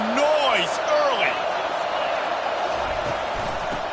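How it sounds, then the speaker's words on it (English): Roaring crowd noise at a college football game between the Gators and the Tigers, a steady loud wash of cheering with whoops rising over it, under an announcer's voice. "This crowd bringing the energy and noise early."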